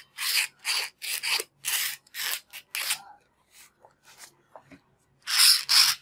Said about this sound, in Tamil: இதை வந்து சுரண்டி எடுத்துடலாம்.